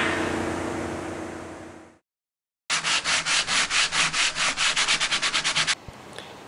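Rhythmic sanding strokes on sprayed polyurethane finish on boat cabin boxes, a steady run of close rasping passes after a short silence, preceded by a noisy broadband wash.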